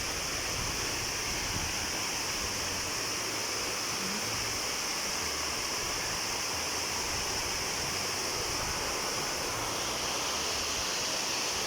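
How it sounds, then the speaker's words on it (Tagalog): A waterfall pours down from above into a cold bathing spot near the sea, making a loud, steady, close roar of rushing water that never lets up. "Oh, gikan sa ibabaw ang tubig."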